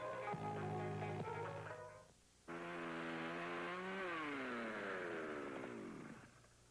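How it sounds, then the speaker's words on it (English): A chainsaw runs close by, idling and then revving up with rising and falling pitch, cutting out briefly around the middle before roaring again and winding down near the end. "So I keep my chainsaw in real good shape."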